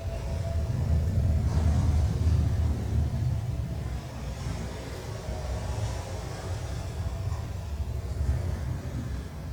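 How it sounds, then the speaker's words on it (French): Storm soundscape inside an art exhibition installation: a steady, loud low rumble with hissing wind-like noise that swells and ebbs continuously, filling the space without pauses. "on est complètement immergé dans une tempête"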